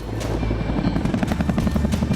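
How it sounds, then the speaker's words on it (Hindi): A Chinook twin-rotor military helicopter flies near a high-altitude forward airstrip at night, its loud, close rotor beat thumping in a rapid, steady rhythm over a deep engine drone, with no voices. "दौलत बेग ओल्डी में चिनूक हेलीकॉप्टर के नाइट मिशंस यानी रात में ऑपरेशन को अंजाम देने की कैपेबिलिटी को टेस्ट किया"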